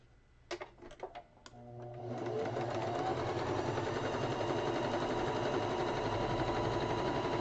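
A sewing machine stitches quilt block pieces together, running in one steady, continuous whir after a few brief clicks and taps at the start, loud and close with no talk.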